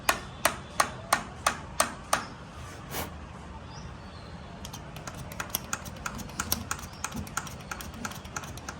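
Light hammer taps while fitting a part into a 2018 Sonalika tractor engine: a series of evenly spaced sharp metallic knocks, then a quieter, faster run of small ticks and taps nearby.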